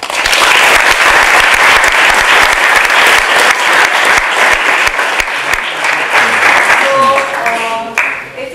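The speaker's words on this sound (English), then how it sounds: "I think we should give them a round of applause" Dense, sustained audience applause at a youth theatre festival event, loud and continuous clapping from a large crowd for several seconds before thinning slightly near the end.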